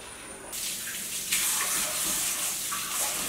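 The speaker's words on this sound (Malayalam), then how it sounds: "ഞാൻ ചൂടുള്ള വരാൻ വേണ്ടിയിട്ട് പൈപ്പ് തുറന്നു വെച്ചതാണ്" A tap is opened and water gushes steadily from it at close range, starting abruptly after a quiet moment and continuing as a constant splashing rush with no voices.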